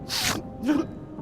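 A single sharp sneeze from a character in the video game The Night of the Rabbit, close and fairly loud, followed by a brief softer vocal burst, with no talking.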